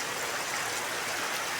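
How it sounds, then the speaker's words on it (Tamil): Heavy rain pours steadily in Kodaikanal, a dense, even hiss with no break, close and loud, with no voices. "மழை கொஞ்சம் சூடு பிடிக்குது, ஹெவியாக தான் இருக்குது"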